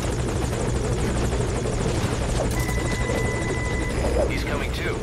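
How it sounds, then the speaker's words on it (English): Helicopter (chopper) in the Metal Gear Solid 5: Ground Zeroes video game, a close, loud, continuous rotor thrum filling the whole stretch, with faint game tones and chirps layered on top. "the chopper should get the message and just go away with you"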